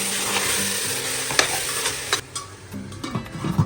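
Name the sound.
stirring and frying mutton biryani masala in a pan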